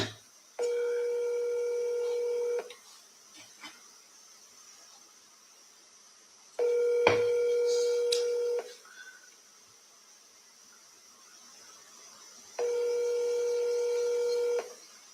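A telephone call rings out three times: long steady electronic ringback tones of about two seconds each, separated by pauses of several seconds, clear and close, with faint background noise between them.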